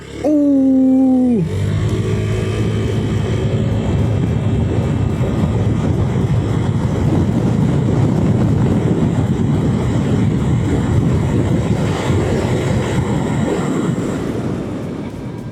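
A Honda Vario 160 scooter accelerates hard, its engine whine rising briefly before heavy wind rush swamps it in a loud, steady roar that fades slightly at the end.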